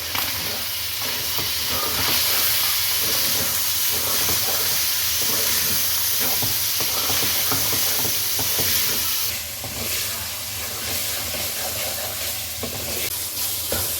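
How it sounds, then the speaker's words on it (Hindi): Keema mince fries with spices in a pan, giving a loud continuous close sizzle and hiss, with scraping stir sounds throughout and no talking. "अब इसको इस मसाले के साथ अच्छे तरीके से भून लें।"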